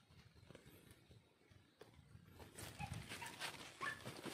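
A dog whines and yelps in the distance at a pineapple farm, rising in the latter half over outdoor background noise.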